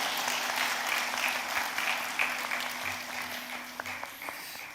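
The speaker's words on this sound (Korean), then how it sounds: "우리 인사하실 때 크게 박수해 주시면 감사하겠습니다." A church congregation applauding during a retirement and dedication thanksgiving service, a dense steady wash of many hands clapping that slowly thins toward the end, heard from within the hall.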